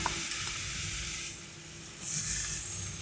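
Small chopped bottle gourd pieces fry in oil tempered with spices, giving a steady close sizzle that swells into a brighter hiss of fresh crackling partway through, with no talk.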